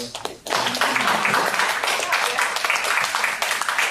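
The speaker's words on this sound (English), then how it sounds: "So I would like you to have applause for..." A lecture audience breaks into applause after a brief pause, with dense clapping swelling in and holding steady, loud and close, while a few voices are faintly audible within it.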